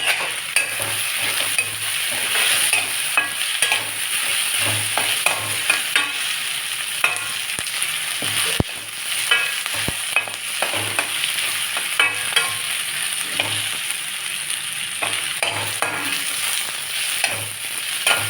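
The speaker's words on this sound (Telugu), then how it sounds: "కొంచెం మరి పొటాటో ఉడకాలి కాబట్టి కొంచెం ఫ్రై చేసుకోవాలి." Potato pieces with a little turmeric fry in a pan for spiced potato rice, a constant bright sizzle with frequent scraping stirs and light taps of the spoon against the pan, close up and without talk.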